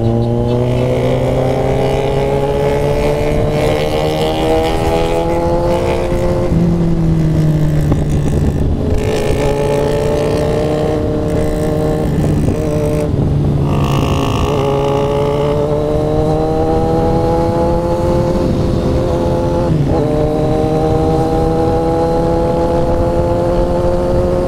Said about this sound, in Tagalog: Ang daming motor dito.